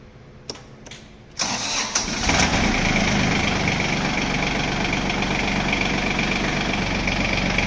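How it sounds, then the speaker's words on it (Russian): An ISEKI SIAL26F Japanese mini tractor's three-cylinder, 26-horsepower engine with 640 hours is cranked by the starter, catches and settles into a steady, even idle, close and loud. "Мотор работает ровно."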